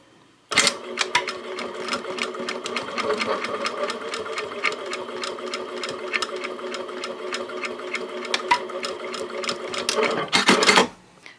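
A sewing machine stitches the side seams of a fabric travel tissue case in a fast, steady run of close mechanical clatter, starting and stopping sharply at each end.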